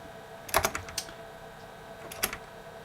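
Two short bursts of clacky keystrokes on a Dell Bigfoot keyboard with Alps salmon pink switches, typed on a Dell 486P computer against a steady low machine hum.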